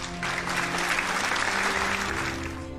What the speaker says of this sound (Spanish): La multitud estalla en aplausos.